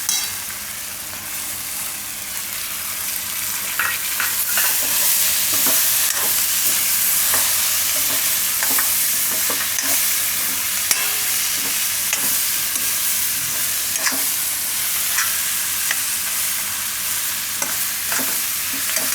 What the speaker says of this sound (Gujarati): આ રીતે વચ્ચે વચ્ચે હલાવતા રહીશું.